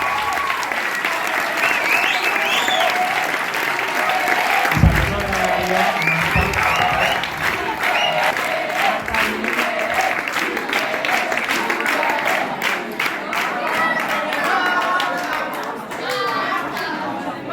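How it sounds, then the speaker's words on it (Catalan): Audience applause at a secondary-school spring concert, a long sustained burst of many hands clapping with children's voices and chatter mixed in, loud and close. "M'agradaria que li donarem un fort aplaudiment a totes aquestes persones."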